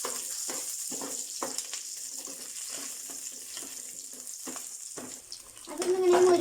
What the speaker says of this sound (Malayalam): അപ്പോൾ നമ്മളിത് നന്നായിട്ട് ഒന്ന് ഇളക്കി കൊടുക്കാം. അതിലേക്ക് നേരത്തെ എടുത്തു വെച്ച ചുവന്നുള്ളി ഇട്ട് കൊടുക്കാം.